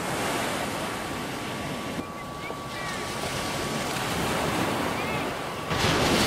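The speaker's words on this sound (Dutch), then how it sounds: "Kijk dan die zon en die zee en het strand." Sea waves break and wash onto the beach at Scheveningen, a steady broadband roar of surf with wind noise buffeting the microphone, swelling louder near the end.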